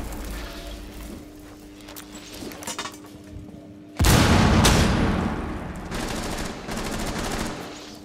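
Loud explosive blast with rattling gunfire in a Rainbow Six Siege match, a sudden broadband boom midway followed by sustained crackling shots, with faint background game noise before it.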